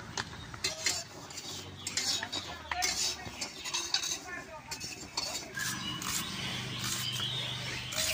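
Spoon and hand mixing chopped onion and dry spices into mashed jackfruit seeds for a Bengali bhorta in a metal bowl, with repeated clinks and scraping strokes in an uneven rhythm while a person talks intermittently.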